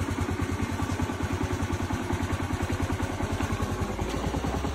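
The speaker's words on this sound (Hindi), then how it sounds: "आता गाडीचा एकदा कोल्ड स्टार्ट मारून बघू आपण." A motorcycle engine idles steadily after a cold start, its even low thumping pulse loud and close, with a slightly clattery mechanical beat running through the whole stretch and no one talking.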